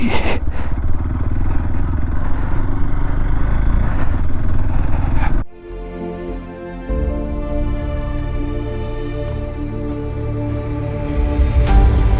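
A motorcycle rides off-road on a Himalayan route between Manang and Kathmandu, its engine droning steadily near and loud, with rough clattering before a brief dip and a smoother, humming run.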